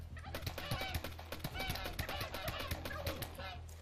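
Turkeys in the video game How to Survive 2 gobble in quick, overlapping rattling calls, a busy cluster of fowl sounds heard fairly faintly over a low steady hum.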